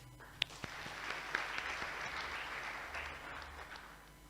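An audience at a paediatrics casebook launch ceremony applauds, a soft, distant patter of clapping with a few sharper individual claps near the start, lasting several seconds.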